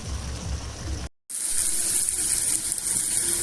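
Water pours steadily from a tap-like stream into a frying pan of egg curry, a loud continuous gush with a brief break near the start, and no talking.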